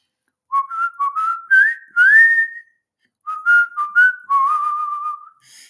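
A clear whistled melody in two phrases, a short rising run of notes, a pause, then a second phrase ending on a held tone.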